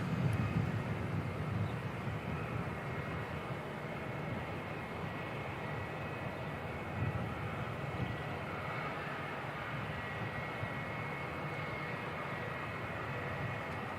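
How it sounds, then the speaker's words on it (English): ATR turboprop airliner arriving at Christchurch Airport from Invercargill, a steady distant propeller drone and engine rumble holding evenly throughout with no voices. "next arrival, another ATR coming in from Invercargill, the NZ5702"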